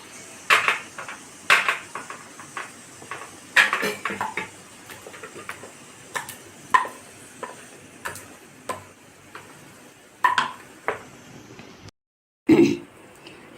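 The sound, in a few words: thick mango mixture scraped from the pan into a greased tray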